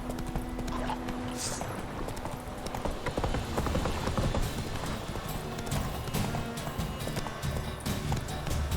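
Hooves of a galloping horse in The Witcher 3 video game pound in a fast, continuous clip-clop rhythm, loud and close, with game ambience and occasional voice underneath.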